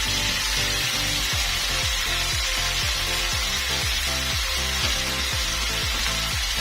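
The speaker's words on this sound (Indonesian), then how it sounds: "Ini kita tumis sampai daun pandan dan daun jeruknya layu" Anchovies with sliced pandan and lime leaves stir-frying in a pan give a steady, loud sizzle throughout, with repeated scraping strokes of a utensil in a regular rhythm.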